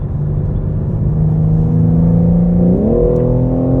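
A BMW M3 accelerates hard on the Sonoma Speedway track, its engine note holding steady, then climbing sharply in pitch as it pulls through the gears, loud and close throughout.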